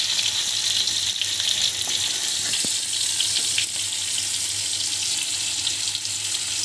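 Rava-coated bangda mackerel fries in a pan with oil, giving a steady, loud, hissing sizzle that holds unbroken throughout, with a few faint clinks from the pan and a low hum underneath.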